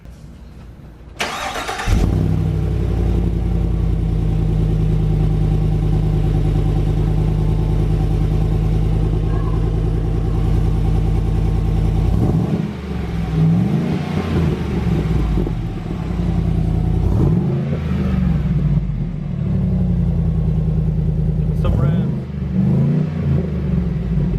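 A truck exhaust fitted with a stainless MagnaFlow muffler fires up and idles with a deep, loud drone, then is revved several times in rising bursts that fall back to idle.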